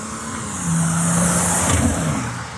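A modified twin-turbo diesel BMW revs up into a sustained, fairly loud engine roar with a rising tone, then eases slightly, heard alone without talking.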